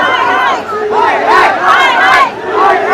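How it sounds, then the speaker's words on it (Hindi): A large, loud protest crowd at Jantar Mantar chants and shouts in rising and falling waves, dense and close throughout, with voices overlapping. "बहुत ज़्यादा भीड़ है।"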